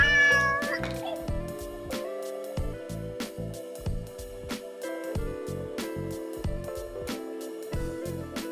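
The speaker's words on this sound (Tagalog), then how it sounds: "Meow, meow, meow, meow," Repeated cat-like meows sound over a steady, thumping dance beat with a pulsing bassline, all loud and close throughout.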